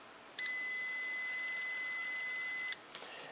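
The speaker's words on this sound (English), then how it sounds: "which should read continuity with a beep sound and 0 ohms" A digital multimeter gives a steady continuity beep while testing a gas dryer's flame sensor, one clear high-pitched tone lasting about two seconds in a quiet room.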